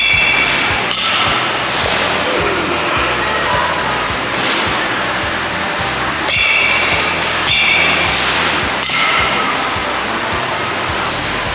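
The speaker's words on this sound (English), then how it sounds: "spent a good half an hour hitting baseballs" Baseballs struck with a bat at a Round1 batting cage in Tokyo, a series of sharp cracking hits spaced a couple of seconds apart, ringing loudly over constant arcade and machine din.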